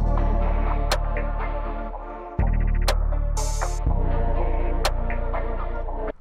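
A beat with deep sustained bass tones and crisp percussive hits looping underneath, punctuated by sharp transients and a short noisy burst.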